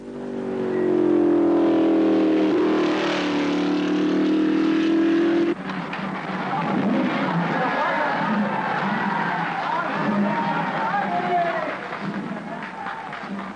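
1955 Formula 1 racing cars at the British Grand Prix roar past the pits nearly side by side, a loud sustained engine drone that shifts pitch, then gives way to a rougher crowd-like wash of noise with a voice speaking over it.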